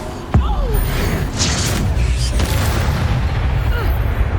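A spell blast in the video game Hogwarts Legacy booms loudly once near the start, then dense rumbling, crackling battle noise carries on steadily underneath, with short whooshing effects scattered through.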